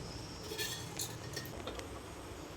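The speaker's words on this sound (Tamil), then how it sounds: "இந்த ஸ்பூனில் நான் மறுபடியும் ஒரு ஸ்பூன் போடுறேன்" A few light metallic clinks of a metal spoon against a pot of cauliflower curry, scattered over a steady low background hiss.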